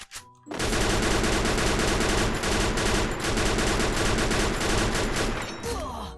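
A VSK 94 sniper rifle fires in the battle-royale game Free Fire. Sustained, loud, dense gunfire starts abruptly after a brief quiet moment and continues almost unbroken, close and harsh, with no talking.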